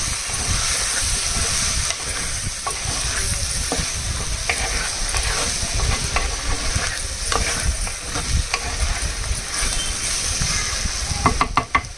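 Chili powder and mango being stirred into a sizzling curry in a pan, a steady frying hiss with continuous scraping of the spoon throughout, close and fairly loud, no talking.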